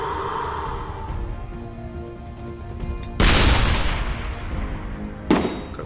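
Artillery fire in the tank game Shellshock Live: two heavy booming shots several seconds apart, each a loud broadband blast that slowly decays, over a dense layer of game music and effects.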